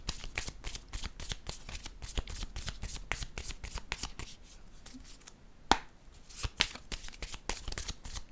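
Playing cards are shuffled in rapid, rhythmic riffles, a string of crisp flutters close by, with a brief pause and a few louder taps near the end.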